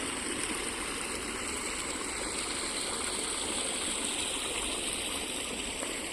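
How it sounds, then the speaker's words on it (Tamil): Steady water flowing into a paddy field rushes and gurgles continuously, a constant watery hiss without pauses. "தண்ணி பாஞ்சிட்ருக்குதுங்க"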